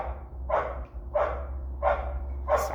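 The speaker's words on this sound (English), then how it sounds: "sorry, my dog." A dog barking indoors, four evenly spaced sharp barks about two-thirds of a second apart, fairly close, over a low steady hum and no talk.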